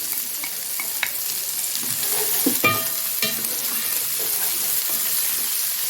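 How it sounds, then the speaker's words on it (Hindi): Onions frying and browning in an open pot for kabab handi, a steady broadband sizzle with occasional stirring scrapes and clinks, continuous and close, no talking. "प्याज डालेंगे और इनको हम हल्का सा करेंगे ब्राउन।"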